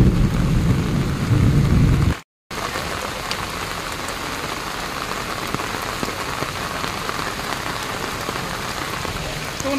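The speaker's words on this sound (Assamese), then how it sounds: "1 ঘণ্টা বৰষুণ দিয়াই নাই" Heavy rain pours steadily during a flood in Guwahati, a loud dense hiss of drops on surfaces with a brief dropout partway through.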